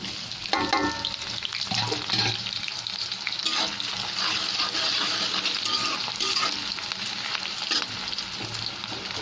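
Onion and garlic fry in hot oil with a steady, dense sizzle throughout, broken by occasional scraping stirs of a spatula in the pan; close and fairly loud, with no voices.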